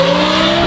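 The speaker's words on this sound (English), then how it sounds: "That's a Huracan STO, not a 5-liter Gallardo." Lamborghini Huracan STO engine with a Valvetronic Designs exhaust, a loud sustained high-pitched engine wail with strong tonal harmonics echoing between city buildings, heard close and steady without any talking.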